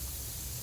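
Irrigation sprinklers on a blueberry farm spray water evenly, making a steady, dense close-up hiss with no breaks.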